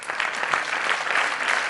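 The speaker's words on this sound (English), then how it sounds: "Can I request the audience to have a huge round of applause for Mr. Gaurav Kumar with 6th rank" Audience at an opening ceremony applauds a sixth-rank prize winner, a steady, moderately loud wash of clapping hands lasting under two seconds.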